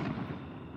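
A Fourth of July firework goes off low on a public street instead of rising, a close, loud crackling burst with rumbling that fades quickly.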